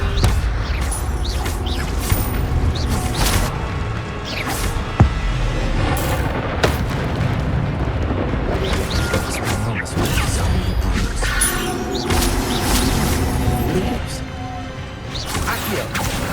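Rapid Levioso spellcasting in Hogwarts Legacy, dense with repeated magical whooshes, crashes and thuds layered over continuous game ambience and music, with occasional sharp impacts and a voice calling spell names throughout.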